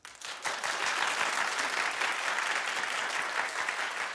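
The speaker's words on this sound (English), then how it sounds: "Clap if you would watch this show" A studio audience on a talk show breaks into steady applause that swells quickly and holds as a broad, even wash of many hands clapping for about four seconds, moderately distant.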